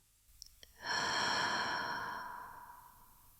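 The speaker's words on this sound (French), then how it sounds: "Expire complètement." A long, steady exhale during a guided meditation, a breathy rush that swells quickly, holds, then slowly fades, heard alone and close.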